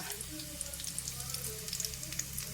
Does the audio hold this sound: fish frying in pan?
yes